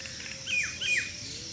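Myna birds in a green walking area give a couple of bright, sweeping chirps, fairly close and moderately loud, over a soft outdoor background.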